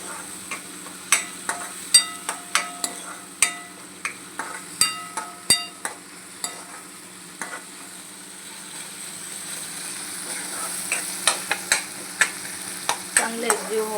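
A crushed spice paste (thecha) is stirred into frying carrot, cauliflower, potato and pea sabji, with a steady low sizzle broken by repeated sharp spatula taps and scrapes against the pan at an uneven rhythm.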